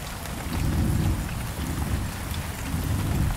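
Heavy rain pours steadily in a West Bengal forest, a dense low roar with deep rolling thunder rumbles swelling and fading through it, close and loud with no voices.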